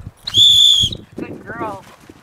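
A dog-training whistle gives one loud, steady, high blast of about half a second, then falls silent, followed by fainter voices and outdoor movement noise.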